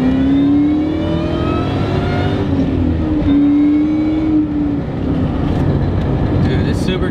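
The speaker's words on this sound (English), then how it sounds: "this supercharger sounds so good." The supercharged engine of a Ford Mustang GT500 Terminator Cobra revs loudly up close, its pitch climbing and then dropping back while rough exhaust rumble continues.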